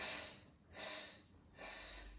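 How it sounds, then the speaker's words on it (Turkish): Slow, deliberate breaths repeat during a pregnancy pilates session, air drawn in through the nose and released through the mouth, three soft airy swells, close and quiet, with no talking. "Burundan al. Ağızdan ver."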